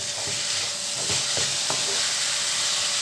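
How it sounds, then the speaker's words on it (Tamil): Flattened rice (aval) being stirred in a pan over high heat, a steady bright sizzle with several distinct scraping strokes of the spoon spaced through the stretch, close and fairly loud, no voices. "இப்போ தீ கொஞ்சம் அதிகப்படுத்திட்டு இதை நல்லா கிளறி கொடுக்கலாம்."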